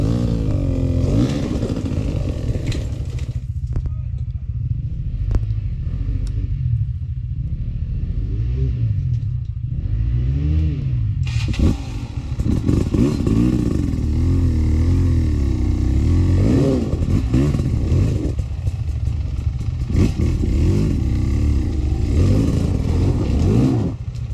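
A motorcycle engine runs close by at a steady rumbling idle, then revs up and down in repeated surges, growing louder and rougher in the latter half, with no talking heard.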